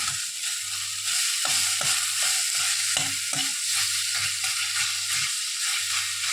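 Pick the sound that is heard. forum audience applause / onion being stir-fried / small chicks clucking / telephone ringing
onion being stir-fried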